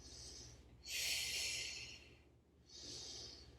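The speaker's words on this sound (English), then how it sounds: "Can you keep breathing?" Slow, audible breaths during an all-fours abdominal exercise: a soft exhale, then a long loud breath, then another steady breath, close and alone with no talk.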